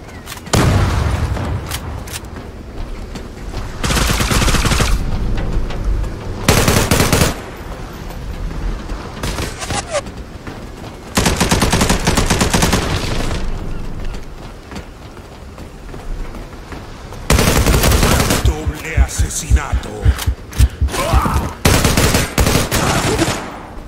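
Bursts of rapid gunfire alternate with quieter gaps, loud sustained volleys of automatic weapons and booming shots in a Zula video game firefight.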